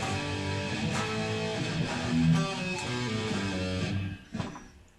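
A short melodic guitar lead lick of plucked notes moving up and down, played steadily at moderate volume and ending with a strummed accent.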